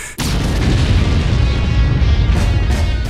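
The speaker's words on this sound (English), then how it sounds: "Explosions!" A deep, sustained rumble of explosions erupts suddenly and rolls on continuously, loud and booming with dense low-end roar throughout, in the video game Borderlands 2.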